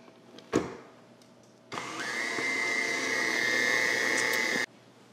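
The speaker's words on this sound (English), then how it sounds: "then we'll whisk it one more time" Pie filling being whisked in a bowl with an electric mixer, a close, steady motor whine running for about three seconds after a brief knock, then cutting off abruptly.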